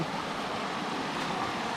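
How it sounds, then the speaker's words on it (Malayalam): A small waterfall on a forest brook during a trek near Dandeli, a steady broad rush of flowing water heard close and fairly loud for a brief moment, with no voices over it. "ഇതാണ് ആ വെള്ളച്ചാട്ടം"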